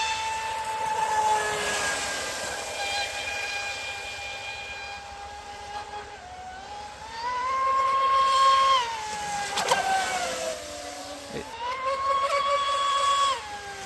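An RC boat on 8S runs an Oxidean Dominator motor at about half throttle, making a loud, continuous high whine that dips and rises in pitch as it runs.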